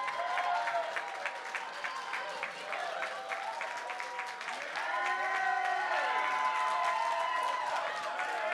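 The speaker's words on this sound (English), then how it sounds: "Please give him a round of applause as he makes his way up." Wedding guests applaud steadily at a reception as a man walks up to give a speech, with a dense wash of clapping, scattered voices and a cheer or two running throughout.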